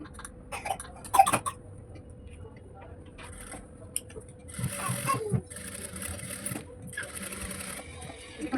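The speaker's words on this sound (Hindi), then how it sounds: "इसके ऊपर आपको इस तरीके से यहाँ पे पूरे में सिलाई करनी है" A sewing machine stitches a princess cut blouse in short, uneven bursts of mechanical whirring, fairly quiet and close, with a person talking over it.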